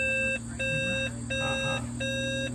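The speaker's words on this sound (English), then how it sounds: "there's this electric vario that you can turn on with that switch" An electric variometer in a Schleicher ASK21 sailplane cockpit gives four evenly spaced electronic beeps over a steady background hum.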